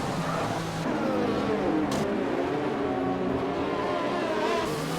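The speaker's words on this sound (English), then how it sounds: "It's very weird listening to the cars going on, so it sounds like the engine almost puts out." Race car engines in the rFactor racing sim drone steadily and loudly, pitch rising and falling as gears shift, a continuous layered roar of several cars at an Italy circuit league race.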